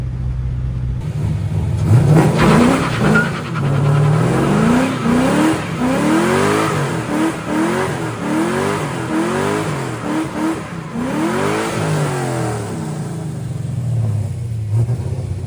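A Pontiac GTO being driven, its engine loud and close as it revs up and drops back repeatedly through the gears, with no talk over it.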